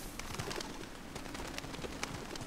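A pigeon-like bird coos softly in Uncharted: The Lost Legacy, its repeated low calls over a constant hiss of ambient background noise.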